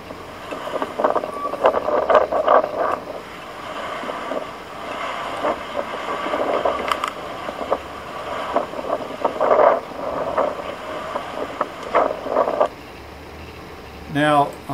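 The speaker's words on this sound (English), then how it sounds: "Very windy." Strong wind gusting outside near the Egyptian pyramids, a steady roar with buffeting surges against the microphone and a few brief louder bursts.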